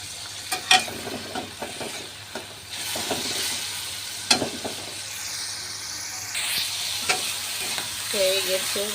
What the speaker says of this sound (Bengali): পানিটা টেনে গেলে একটু তেল দিয়ে ভেজে নেব।